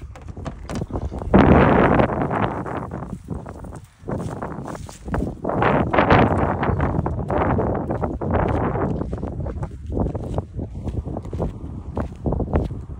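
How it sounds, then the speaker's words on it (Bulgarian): Gusty outdoor wind buffets the microphone at an air rifle shooting range, rising and falling in loud rushing swells over about thirteen seconds, with a brief lull partway through. "Вятър има."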